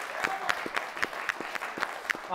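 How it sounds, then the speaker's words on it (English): A short round of applause from a small group at an airsoft show, a handful of separate claps spaced out over a couple of seconds, fairly quiet, with a voice briefly audible. "Round of applause for Panther."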